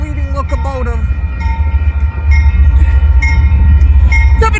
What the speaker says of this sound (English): Union Pacific is the leading locomotive.